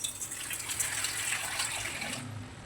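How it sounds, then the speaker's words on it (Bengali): Water pours into a cooking pot of gourd stalk and potato curry, a continuous gushing splash at close range that eases off toward the end. "এখন আমি জলটা দিয়ে দেবো"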